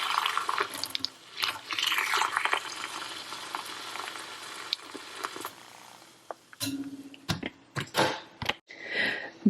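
Hot water streams from a Keurig brewer into a cup, a hissing, bubbling pour lasting several seconds, followed by sharp clicks and clatters of the machine and cup nearby.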